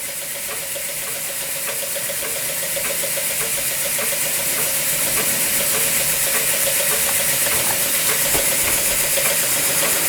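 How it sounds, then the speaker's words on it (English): A Swan M2 model steam engine runs steadily with a continuous loud hiss of escaping steam and a fast, even mechanical chuffing throughout, close to the microphone. "A very steamy steam engine."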